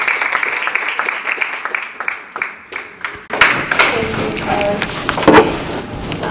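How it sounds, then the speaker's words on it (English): Audience claps for a speaker coming to the stage, sparse scattered claps at first that swell into louder, busier applause with some crowd noise. "please give her a round of applause"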